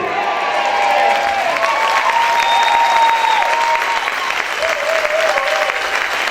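A church congregation claps loudly and steadily, a dense sustained wash of applause with a few voices and faint tones sounding through it.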